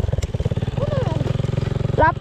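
An enduro motorbike engine runs on a snowy outing with a steady, close thumping pulse and a quick rev near the end, under a person talking.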